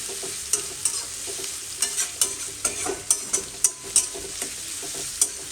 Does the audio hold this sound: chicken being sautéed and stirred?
yes